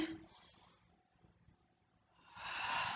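An audible breath in during a warm-up exercise routine, a soft airy hiss at the start and a fuller, louder inhale near the end, close to the listener with no speech over it.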